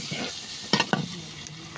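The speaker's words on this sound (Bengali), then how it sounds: "একটু নাড়াচাড়া করে নিলাম, নিচে যেহেতু না লেগে যায়।" A spoon scrapes and stirs desi chicken and potato curry in a sizzling pan, with a few sharp clinks against the metal over a soft continuous frying hiss.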